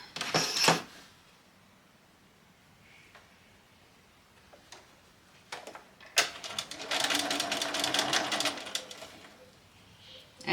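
A sewing machine stitches through layers of a lace and appliquéd wedding dress skirt, a short burst at the start and then a steady run of rapid needle clatter for several seconds near the end, with quiet rustling between.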